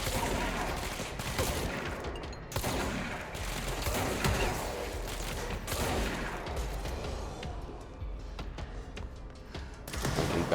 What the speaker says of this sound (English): to be firing slugs from this thing. Slug rounds.